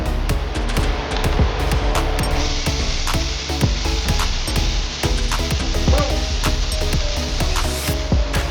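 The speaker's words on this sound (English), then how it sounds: "you pan fry it" Pork fat pan-frying into chicharrones without added oil, a steady, dense sizzle and crackle with scattered pops that holds evenly at close range throughout.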